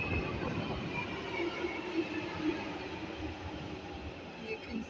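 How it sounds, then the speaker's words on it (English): London Underground Jubilee Line tube train pulling into a station, a continuous low rumble and rolling rail noise at moderate level, fairly distant and steady. "the trains pull in with a reasonable speed"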